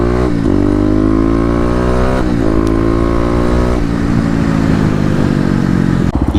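A Kawasaki KLX250 motorcycle accelerates loud and close toward the highway, its single-cylinder engine climbing through several gear pulls with rising pitch, brief dips at each shift, and a steady droning roar throughout.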